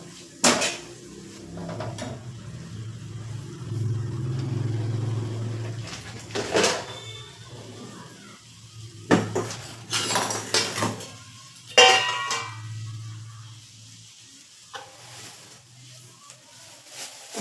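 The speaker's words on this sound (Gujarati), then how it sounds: "હવે આપણે આમાં સિમલા મિર્ચ એડ કરી લેશું એડ કરી અને બરાબર મિક્સ કરી લઈશું" Utensils clatter and scrape against a pan as chopped capsicum is stirred into a cheese paneer ghotala mixture, with irregular clinks and knocks over a low hum and quieter stretches between.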